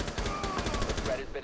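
Rapid automatic gunfire from the video game Rainbow Six Siege on Xbox One: a dense, loud, close burst of rattling shots that continues almost unbroken and fades at the very end.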